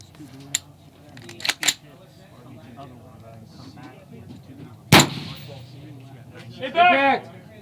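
Rifle shots at steel targets 790 and 990 yards away during stage 6 of a long-range shooting match: a few sharp, loud reports spaced apart, with one especially strong crack near the middle, amid background talk and outdoor noise.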